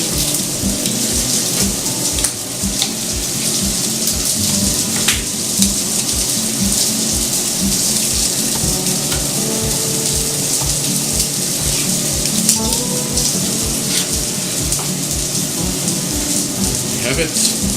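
Soup for a smoky bean soup bubbling steadily at a boil in a pot, a continuous close, even rush of fizzing and popping under faint kitchen noise.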